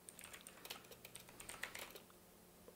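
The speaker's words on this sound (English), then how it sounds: "I'm directly typing the command this time" Keys clatter on a computer keyboard as a command is entered at a command-line interface, a quick irregular run of soft close clicks over faint background hiss, with no voices.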